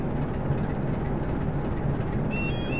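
A train rolls along the track in the video game Train Simulator 2013 on a woodyard route. A loud, steady rumble of wheels and engine fills the whole stretch, and a faint high whine enters near the end.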